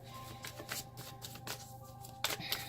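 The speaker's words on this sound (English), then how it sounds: "I'm going to just shuffle enough and then stop." Tarot cards being shuffled by hand, soft riffling and slapping sounds repeating in quick bursts, close and fairly quiet with no talking.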